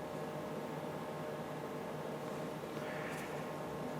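White noise test signal fed into a spectrum analyser, a flat steady hiss running evenly and unbroken at low level for the whole stretch.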